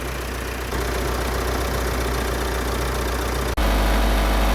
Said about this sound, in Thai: เปิดฝากระโปรงรถเร่งเครื่องค่ะตอนนี้